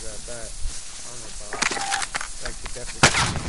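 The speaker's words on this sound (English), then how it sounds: "hostile fire. Getting shot." Gunfire in the Warzone battle royale video game: a burst of sharp shots around the middle and another loud crack near the end, heard under players talking.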